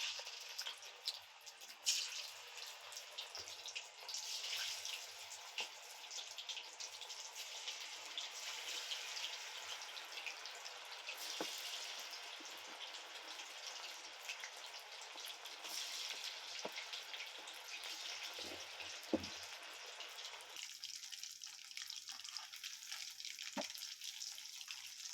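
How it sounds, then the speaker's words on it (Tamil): Chicken 65 deep-frying in hot oil, a constant hissing bubble that holds steady for a long stretch, softer and quieter near the end, with a few faint clinks and no speech. "இப்போ சிக்கனை பொரிச்சிடலாம்."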